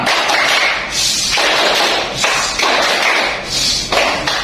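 Seated pupils in a classroom perform the 'tepuk diam' clapping routine, dense rhythmic bursts of many hands clapping, with little talking in between.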